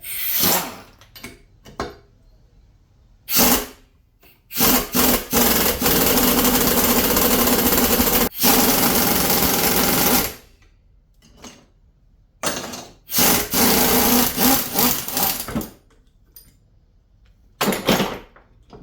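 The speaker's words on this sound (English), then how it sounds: "I'm going to use the impact, because the rattling around of the impact sometimes will shock them loose" Pneumatic impact wrench loosening a bolt on a Kawasaki X2 personal watercraft, heard as several loud rattling bursts of varying length separated by silences, the longest lasting a few seconds, with no talk.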